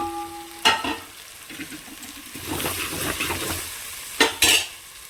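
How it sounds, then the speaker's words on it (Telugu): Garlic and cumin sizzling in oil while stirred, a low crackle broken by sharp spoon-against-pan clanks at the start and end, with a few quieter scrapes between and no talk. "అన్నిటికన్నా ఫస్ట్గా వెల్లిపాయ జీలకర్ర వేసుకున్నాను"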